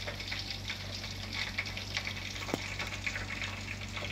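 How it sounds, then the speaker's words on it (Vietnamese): Egg-dipped, panko-breaded chicken thighs deep-frying in oil, a steady close sizzle and bubbling hiss with a brief sharp clink midway, no voices. "Hôm nay em chiên đùi gà rán"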